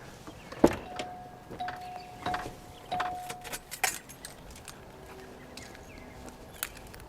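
Car keys for a 1980-85 Cadillac Seville are handled near the car, with small metallic jingles, a few sharp clicks and a brief squeaking tone, all fairly quiet against a still background.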